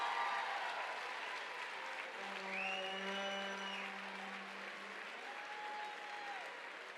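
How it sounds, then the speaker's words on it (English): Steady applause from an audience at a dance competition fills the whole stretch, with faint whistles or cheers rising briefly in the middle. "Give them a round of applause."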